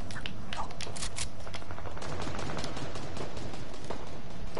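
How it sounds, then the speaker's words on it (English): Rapid automatic gunfire in Fortnite, dense bursts of submachine gun shots rattling continuously at close range, with scraping game sounds mixed in and no talk. "Someone's got an SMG."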